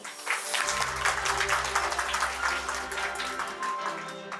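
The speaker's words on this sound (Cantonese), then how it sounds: "掌聲有請" A crowd claps continuously in steady applause at an OCBC corporate event speech, fairly loud and sustained, with a low background hum beneath it.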